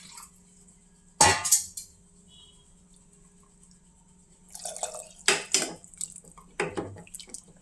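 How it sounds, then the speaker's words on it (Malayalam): Water poured into a pan of potato curry with ground coconut and fennel, a few short splashing pours and clinks of a vessel against a quiet kitchen background. "ആവശ്യത്തിന് വെള്ളം ചേർക്കാം."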